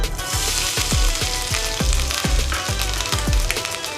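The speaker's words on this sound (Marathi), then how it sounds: "आणि खोबरं भाजून घेऊया" Coconut roasts in a pan for a Maharashtrian black pea usal, a dense continuous sizzle broken by a regular run of sharp spatula scrapes and taps, close and loud.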